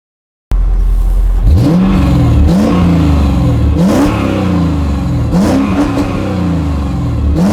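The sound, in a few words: Mercedes-Benz W210 E55 AMG M113 engine revving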